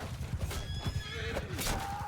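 Horses whinny in the Bannerlord video game during a mounted battle, a short, shrill neigh rising over hoof clops and a low battlefield rumble, heard briefly and up close.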